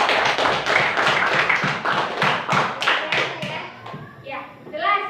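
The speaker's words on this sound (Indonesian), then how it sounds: "Oke, beri aplaus buat." A seminar audience applauds in a dense burst of close, loud hand claps, gradually thinning out, with a voice speaking as the clapping fades at the end.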